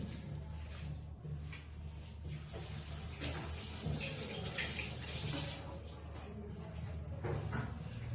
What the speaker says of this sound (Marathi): त्यामुळे हा लसूण मी धुवून घेते